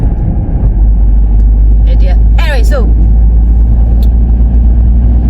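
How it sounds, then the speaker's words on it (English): A car driving on a rural road past a tractor, with steady road and engine noise running throughout beneath a person speaking. "why would you overtake a tractor when there's a car coming the other way?"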